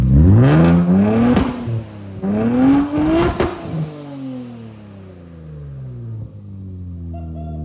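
Engine of a wrecked 2023 Nissan 400Z, revved twice in quick succession with rising and falling pitch, loud and close, then settling back into a rumbling idle with no voices.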